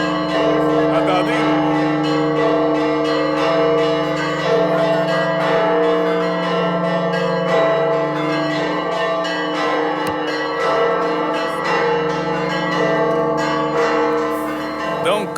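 Carillon bells ring loudly and continuously, many overlapping tones layered into a dense, sustained peal that never pauses.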